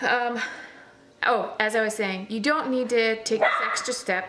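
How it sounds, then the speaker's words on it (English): An excited dog barks and yips at dinner time in a home kitchen, with several quick barks overlapping a person talking close to the mic. "Sorry for the dog."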